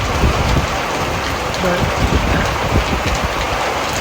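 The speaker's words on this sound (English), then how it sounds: "it's beginning to rain." Rain falls outdoors in a dense, steady patter of drops hitting nearby surfaces, loud and continuous, with someone briefly speaking over it.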